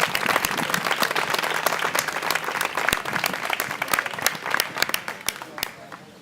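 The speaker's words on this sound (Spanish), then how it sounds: "Un fuerte aplauso para él." Steady applause from an audience at a talk in Albolote, Spain, dense clapping throughout with a few sharper individual claps standing out, fading slightly at the end.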